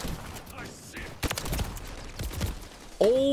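A single sharp gunshot crack from a sniper rifle in the video game Modern Warfare 3 rings out over an ongoing game soundscape with voices. A tonal effect follows at the end.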